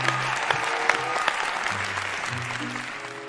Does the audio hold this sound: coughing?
no